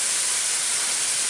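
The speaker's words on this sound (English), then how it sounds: "These just steam." Ham and cheese sliders steam in a pan, giving a loud, even, continuous hiss with no talking over it.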